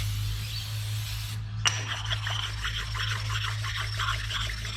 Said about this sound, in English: to scratch away at it nice and flat, kind of doing diagonal things, but just very evenly doing it